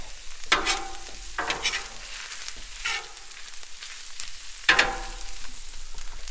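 Keto egg roll in a bowl sizzling on a Blackstone griddle, with a constant frying hiss and a few loud spatula scrapes as the mixture is stirred.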